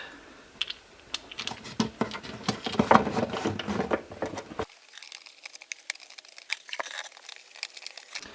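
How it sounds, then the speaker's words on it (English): Small clamps clatter and click against the wood inside a broken acoustic guitar under repair, a close, irregular run of light taps and scrapes that thin out partway through, with no talking. "now I'm just going to put these clamps on the inside"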